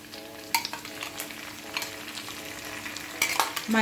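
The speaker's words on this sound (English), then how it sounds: "I'm just gonna fry this until I see that it's really brown" Steady sizzling of chopped mushrooms frying in a pan, with scattered clicks and scrapes of stirring throughout.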